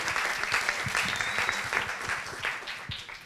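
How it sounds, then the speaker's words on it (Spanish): An audience at a panel talk on video games and virtual reality gives a steady round of applause, dense continuous clapping throughout, with no voices heard. "con un fuerte aplauso"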